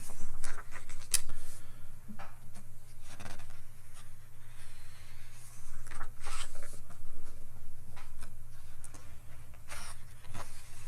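Crisp papery flicks and rustles as pages of the official Cyberpunk 2077 strategy guide are turned one after another, close by, with soft handling noises between turns.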